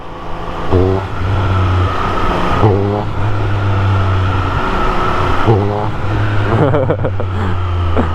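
A Triumph Speed Triple 1200 RS motorcycle engine drones at a steady idle-like pitch close up, with short revving bursts rising and falling, while people talk over it.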